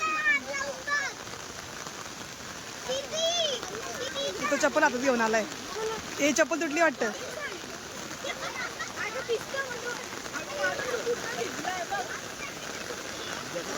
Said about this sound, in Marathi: जोरात लागला पाऊस जोरात लागलाय पाऊस